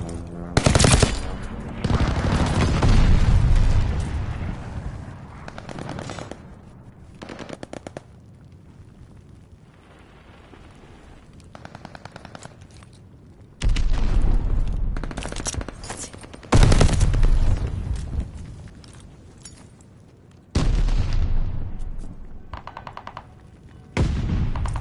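Call of Duty esports match with rapid automatic gunfire and heavy airstrike blasts arriving in loud bursts, separated by quieter stretches of scattered shots.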